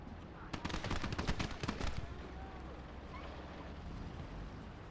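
Rapid gunfire in the World War II video game Gates of Hell, a quick burst of shots in the first two seconds, then a lower wind-like rumble with distant battle noise.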